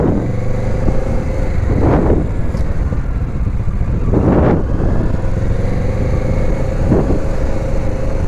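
A Kawasaki Ninja 650 on a test ride, its engine droning loud and close under heavy wind rush, with several rising and falling revs as it accelerates and shifts.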